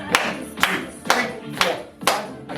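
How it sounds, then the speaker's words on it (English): Five sharp hand claps during a treadmill workout, close and evenly spaced about half a second apart, each a crisp slap over faint background noise. "I clap."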